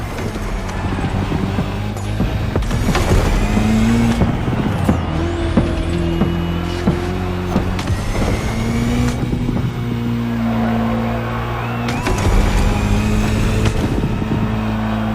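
Rally cars, including the electrified Ford Puma Hybrid Rally 1, race in the video game The Crew Motorfest. Loud engines rev and drone continuously, with changing pitches and gear shifts, and occasional sharp whooshes.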